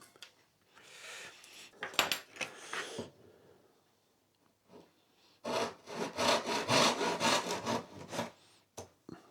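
Small wooden braces for a guitar build are sawn by hand in two bursts: a few short strokes, a quiet gap, then a longer run of rhythmic, rasping back-and-forth cuts close by.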